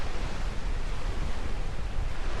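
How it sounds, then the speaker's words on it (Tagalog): Steady sea surf at a beach resort in Baler, Aurora, a continuous broad wash of waves mixed with wind noise, moderately loud and unbroken, with no talking. "So ayan yung dagat."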